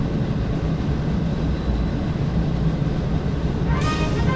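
A Max double-deck Shinkansen pulls into the elevated platform at Omiya station, a continuous rumbling rail roar with a high whine rising near the end.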